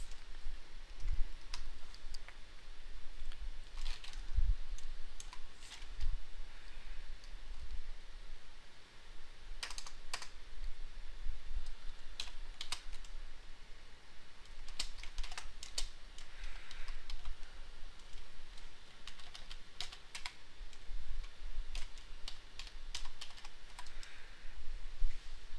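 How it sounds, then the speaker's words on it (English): Steady typing on a computer keyboard while writing VB.NET code, with close, quiet clicks in irregular bursts and short pauses throughout, no talking. "Let me type this out so it's not too confusing."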